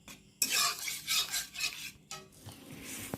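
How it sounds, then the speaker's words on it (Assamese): Fish with poppy seed fries in a pan while a metal spoon stirs it, giving bursts of scraping and clinking against the pan over a faint sizzle, close up with short pauses between strokes. "আকৌ মই গেছটো লগাই লৈ এইখিনি ভালদৰে ভাজিম"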